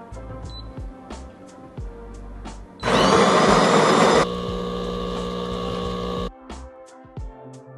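A De'Longhi Dinamica Plus coffee machine's built-in conical grinder grinds whole beans with a harsh, loud mechanical whir for over a second, then drops to a steady motor hum before stopping, with quieter clicks and clatter around it.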